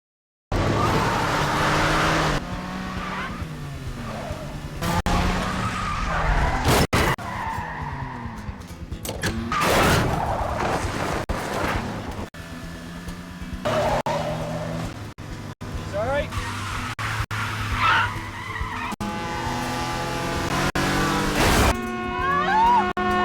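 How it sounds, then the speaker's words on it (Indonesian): Cars race on a road in a film action sequence, tyres skidding and squealing with loud engine roars and sudden impacts. A narrator talks over the busy, dense mix throughout. "mereka kembali bertemu di jalan dan saling adu cepat dengan mobil"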